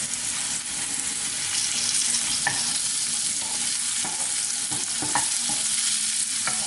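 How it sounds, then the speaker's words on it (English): Bombay potatoes with coriander stirred in a pan, a steady soft sizzle of frying with occasional scraping and clinks of the spoon against the pan, close and continuous, no talking. "mix that through, and garnish it with a bit of coriander"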